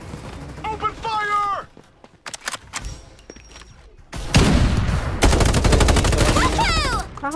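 Gunfire in the video game Farlight 84: loud bursts of automatic fire and rapid shots with impact thuds, a short lull, then a sustained heavy fusillade, with players calling out over it.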